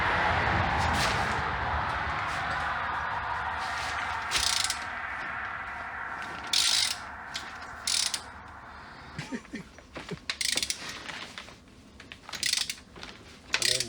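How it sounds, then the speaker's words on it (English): A hand ratchet cracks loose the cylinder head bolts on a Toyota 22R engine, with a loud steady clicking rattle at first, then shorter bursts of ratcheting and sharp metallic clicks, close up and without talk. "we're going to start cracking some head bolts"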